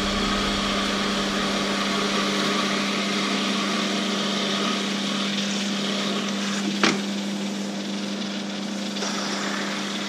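A steady high-pitched whine of a small 2 mm drill boring into opal, running continuously, loud and close, with a brief sharp click partway through.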